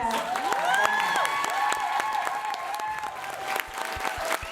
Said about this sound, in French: c'est un délire dans la salle, tout le monde applaudit